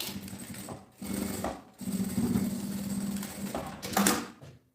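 Sewing machine stitching the lining of a women's backpack, running in several short bursts of rapid mechanical whirring separated by brief stops, fairly close and moderately quiet.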